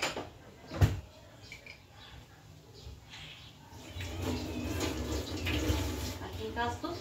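Kitchen tap water runs while food is rinsed for a sururu lunch, a steady splashing hiss building in the second half after a sharp knock, with someone talking in the background.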